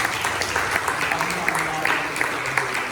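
A church congregation at a Christmas Sunday service claps in appreciation, a moderately loud, uneven patter of hands with a few sharper individual claps standing out over low background murmur.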